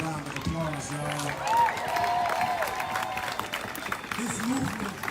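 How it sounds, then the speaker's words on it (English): Crowd applause and cheering at a rally outside the Police Officers Federation of Minnesota in Minneapolis, a steady wash of clapping with voices and shouts rising over it throughout. "Let's give this young brother a round of applause,"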